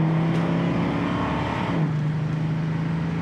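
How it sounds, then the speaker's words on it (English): A 1979 Chevrolet Camaro Z28 drives on the road, its engine droning steadily inside the cabin with a brief drop in pitch as it shifts gears, then settling into a steady hum. "Transmission really seemed like it shifted well."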